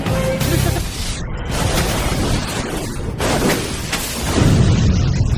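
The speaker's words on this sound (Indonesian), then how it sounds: "Sampai di sebuah gang, mereka pun langsung turun dan mobil pun meledak." In a film scene, a car explodes in an alley: loud booms and shattering crashes come in several bursts, with rumbling debris between them.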